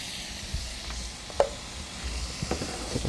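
Chicken pieces deep-fry in plenty of hot oil over fairly high heat, giving a steady, faint sizzle with a few soft knocks and clinks. No one speaks.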